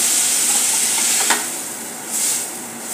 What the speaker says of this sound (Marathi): आता यामध्ये घालणार आहोत 7 ते 8 काजू आणि काही कोथिंबीरीच्या काड्या घेतलेल्या आहेत